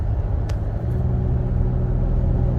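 A 2022 Nissan Frontier S pickup engine rumbles steadily from inside the cab while driving, with a deep, continuous low drone.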